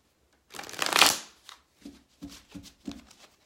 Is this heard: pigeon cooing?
no